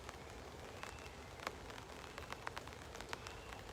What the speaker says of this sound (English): I have got an umbrella up so you'll probably hear that rain sound as well